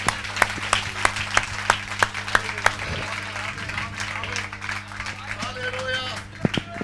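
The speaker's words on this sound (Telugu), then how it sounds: "చప్పట్లు కొట్టి దేవునికి స్తోత్రం చెప్పండి." Congregation clapping in praise during a church meeting in Yanam, with sharp irregular claps over a steady hum of sound equipment and a murmur of voices, loudest early and then thinning out.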